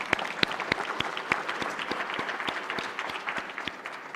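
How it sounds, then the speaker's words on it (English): Audience applause for a planning committee at a conference opening session, steady dense clapping from a crowd with a few sharp louder claps standing out, sustained evenly throughout. "we have a round of applause here for our planning committee"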